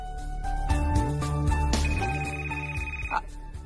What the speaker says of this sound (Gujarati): ફોન વાગ્યો